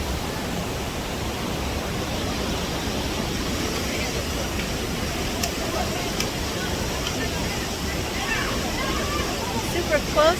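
A river in Matagalpa rushing steadily nearby, a broad continuous roar of flowing water with no breaks, loud and close, with faint voices and a few brief sounds near the end.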